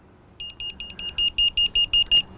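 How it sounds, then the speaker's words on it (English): In-car tire pressure monitoring system alarm: a series of about ten short, evenly spaced high electronic beeps, loud and close, growing slightly louder toward the end, with no talking. "this is the alarm you'll get inside the car if something is going above or below your"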